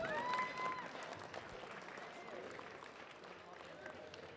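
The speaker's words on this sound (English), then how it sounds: "Give me a round of applause to these guys." An audience applauds at a collegiate raw powerlifting nationals, a dense, fairly faint wash of clapping that carries on steadily throughout, with a voice calling briefly over it at the start.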